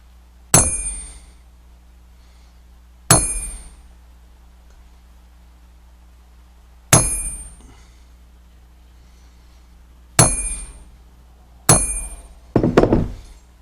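Hardened steel on a 1911 pistol part struck by a hammer for peening: six sharp metallic clangs, separated by a few seconds each, then a quick double strike at the end, each ringing briefly before fading into a quiet background.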